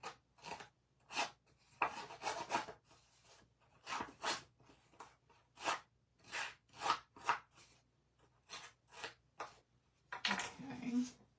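Paper edges being distressed for scrapbooking, a series of short dry rasping scrapes in an irregular rhythm, close and fairly quiet, with a person talking in between.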